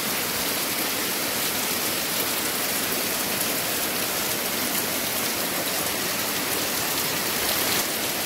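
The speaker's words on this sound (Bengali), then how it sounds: "আর বৃষ্টির আওয়াজ তোমরা শুনতে পাচ্ছ" Heavy rain falling outside a house, a dense, steady roar of drops hitting surfaces that stays even and unbroken throughout, close and loud with no talking.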